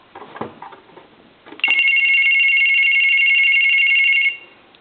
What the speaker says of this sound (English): we're going to go ahead and ring the telephone now.